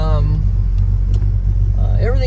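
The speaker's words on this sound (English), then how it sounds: "It's got a nice lope to it. You can hear the car running." A 1970 Plymouth GTX 440 V8 idles with a lumpy lope, a loud, close, low rumble pulsing steadily throughout while someone talks over it.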